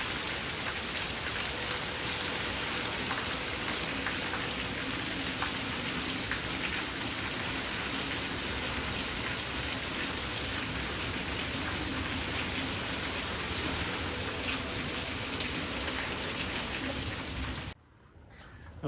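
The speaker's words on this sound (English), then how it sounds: "the rain has slacked off a little bit" Heavy rain mixed with hail pours down on garden flowers, a dense, even hiss of countless drops that stays loud and unbroken, then cuts off abruptly near the end.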